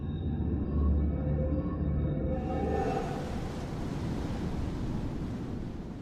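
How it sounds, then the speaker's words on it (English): Ocean waves break on the short reef ringing Flint Island, a volcanic Pacific island, sending up a loud, continuous roar of surf with heavy wind buffeting the microphone. "The reef here is so short, so the waves are breaking right there."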